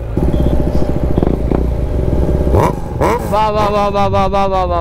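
Superbike exhaust from a KTM RC390 or Aprilia RS457 with a full system and dB killer, revving close and loud in sharp rising bursts after a steady idle rumble.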